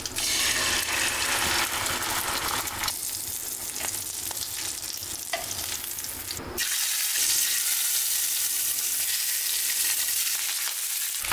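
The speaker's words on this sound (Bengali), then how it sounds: "এখন ডিমটা ভেজে নিব" Country chicken eggs fry in hot oil with a loud, continuous close sizzle. A brief clatter in the middle interrupts it, and then the bright crackling frying resumes.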